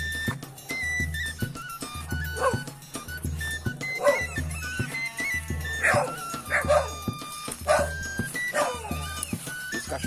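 Several dogs bark and yip in bursts, fairly close, with some whimpering between barks over a low steady hum.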